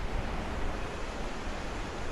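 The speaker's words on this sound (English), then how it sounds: "the wind coming through here is just ominous" Wind blowing through a high box canyon makes a broad, steady rushing roar, fairly faint and uniform, like distant water or rain on all sides, with no voices.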